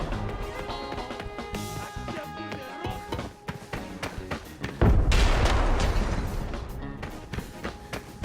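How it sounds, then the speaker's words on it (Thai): Grenade going off in the Arena Breakout shooter game: a sudden loud blast midway with a broad rumbling tail, preceded by scattered game effects and talking players whose voices continue over the sound. "เมื่อกี้มันโยนระเบิดมาแล้วเมื่อกี้อ่ะ"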